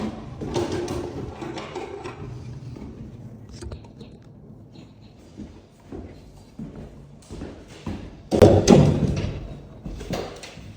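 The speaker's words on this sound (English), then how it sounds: "you'll hear the doors open and shutting all the time" Interior doors in a house under renovation opening and shutting, with scattered thumps and knocks of varying strength and one louder bang near the end, while a person talks intermittently.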